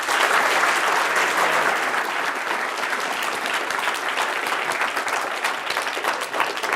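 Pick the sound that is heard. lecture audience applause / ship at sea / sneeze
lecture audience applause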